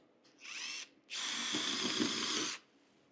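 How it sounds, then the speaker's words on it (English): A power drill whirs twice up close, a short burst then a longer steady run, boring a pilot hole into wood for a window frame before stopping. "Drill a little bit of a pilot hole"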